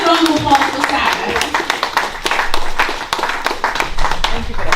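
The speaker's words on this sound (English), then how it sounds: "So if you can give a good round of applause for Sarah." Dense audience applause with sharp claps fills the room steadily at a business ball, and a voice rises over the clapping partway through.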